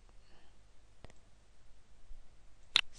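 A computer mouse gives a few soft, isolated clicks, one near the start and a sharper, louder one near the end, against a quiet room.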